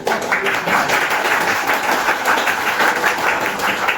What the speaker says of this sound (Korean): 한 분 한 분 성함이 표현될 때마다 뜨거운 박수 부탁드리겠습니다.